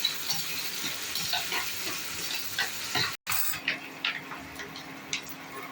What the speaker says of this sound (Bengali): এবার সসটা মেশাবো।